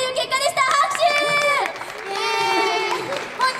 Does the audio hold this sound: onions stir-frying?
no